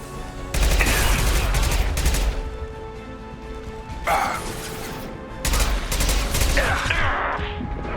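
Gunfire bursts in Mass Effect 2, three loud rapid volleys separated by brief lulls with lingering game ambience between them.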